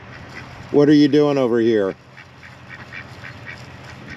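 A duck quacks loudly nearby in a short harmonic burst among other ducks, followed by quieter background noise, with someone speaking in the clip.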